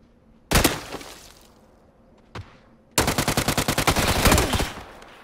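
Gunfire in the video game PUBG: a single loud shot, a fainter crack, then a rapid burst of automatic fire lasting about two seconds, close and sharp.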